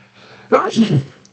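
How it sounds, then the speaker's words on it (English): A single close, abrupt sneeze bursting out after a brief quiet breath. "nothing like a sneeze for the first episode."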